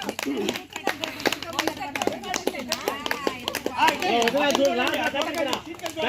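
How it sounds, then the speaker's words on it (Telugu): Children playing a chairs game clap their hands in quick, uneven bursts nearby, with lively chatter and shouting from several kids throughout. "క్లాప్స్ కొట్టండి."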